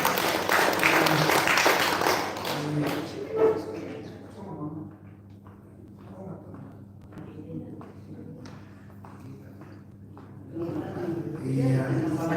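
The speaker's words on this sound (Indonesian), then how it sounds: "Ya, jadi sekali lagi tepuk tangan dulu untuk kita." An audience claps together at a HKBP Parompuan women's contingent gathering in a family home. Dense applause fills the first few seconds, gives way to murmuring voices, then swells again at the end.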